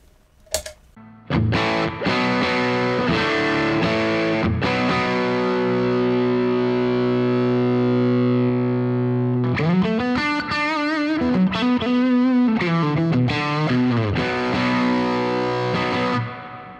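A heavily distorted Tone King Sky King guitar amp on its lead channel holds a long, sustained chord, then breaks into a quick lead phrase with wavering bent notes.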